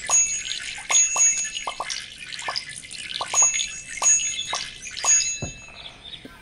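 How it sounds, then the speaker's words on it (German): Plants get watered in the Fiete World children's app game, with a series of short bright dripping and chiming ticks scattered over a faint watery hiss, no voices. "Da kann man gießen."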